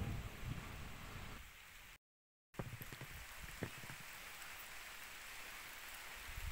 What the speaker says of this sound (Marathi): पावसाला सुरुवात झाली आहे कोकणातील पहिला पाऊस